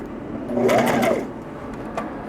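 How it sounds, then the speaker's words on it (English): A sewing machine briefly runs while stitching costume fabric, a short rising and falling whir of about half a second amid close handling noise and soft clicks. "sew on to the little bit of excess material, lift up, and then cut."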